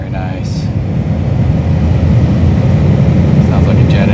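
The heater blower fan of a Jeep Grand Cherokee runs steadily inside the cabin, a loud, dense rushing roar of air with a strong low rumble that holds constant throughout.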